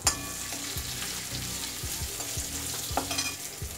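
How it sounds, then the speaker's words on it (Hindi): Chopped onion added to a garlic, ginger and green chili paste sizzles and fries in a pan, with scraping stirs at intervals, close and fairly quiet, with no talk. "हम इसमें प्याज डाल देंगे।"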